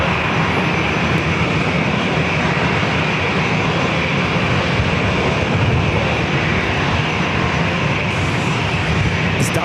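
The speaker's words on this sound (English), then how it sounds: "It's Delta A321 heading to Salt Lake City, flight 1453." Delta Airbus A321 jet bound for Salt Lake City at San Diego airport, a loud steady engine roar holding constant throughout, close and unbroken by speech.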